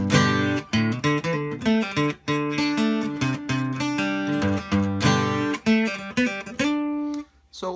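Acoustic guitar plays a riff with its fills, strummed and picked notes ringing in a steady, bright rhythm, up close and alone with no talking.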